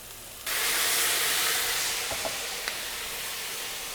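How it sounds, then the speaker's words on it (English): Red pepper turkey sausages hit with a splash of starchy pasta cooking liquid in a hot pan, bursting into a loud steaming sizzle that hisses strongly, then settles into a steadier simmering crackle with a few small pops. "I'm gonna add a splash of the starchy cooking liquid, just to steam these guys a little bit."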